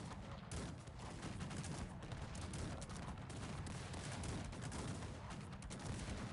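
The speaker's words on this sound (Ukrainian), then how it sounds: "Треба сюди залп." Massed musket volleys crackle in the real-time strategy game Cossacks 3, a dense, continuous barrage of overlapping shots with muffled booms underneath, heard at a distance with no pauses.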